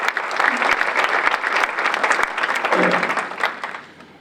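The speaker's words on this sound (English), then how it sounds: "give a clap, give a clap to our president, Michael T. Benson" Steady crowd applause at an athletics hall of fame banquet, honouring the university president, holding at a full level before tapering slightly at the end.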